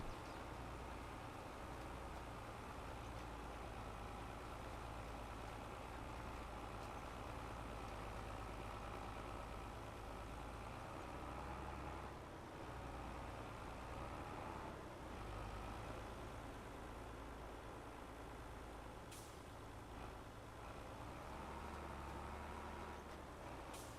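A tractor engine in Farming Simulator 22 running at full speed on the Elmcreek map, a steady, low, droning hum that holds constant throughout with little variation, fairly quiet and with no talk over it.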